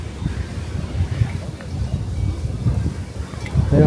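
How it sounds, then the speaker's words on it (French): Wind gusting across the microphone high on a very steep mountain climb, a rough, buffeting rumble that rises and falls throughout and swells near the end. "Il y a un bon petit vent là."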